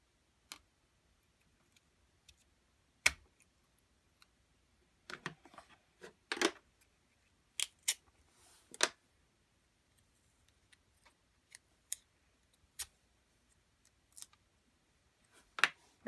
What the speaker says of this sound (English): You're going to use your scissors to open your Stampin' Spot.